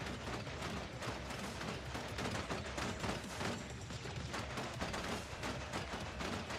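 Dense, continuous gunfire from the video game Tower of Fantasy, a loud, steady barrage of rapid shots with no clear gaps, filling the whole stretch with no voices.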